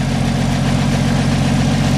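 A 1974 Toyota FJ55 Land Cruiser engine idles steadily with a rotted-out exhaust, a close, even low rumble with a regular pulsing throb and no pauses.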